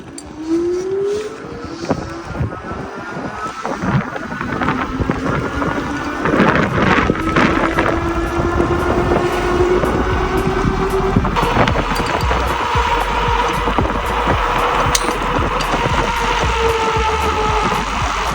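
A Ride1Up Portola folding electric bike pulls away from a stop, its motor whine rising steadily in pitch over wind and road noise, heard close.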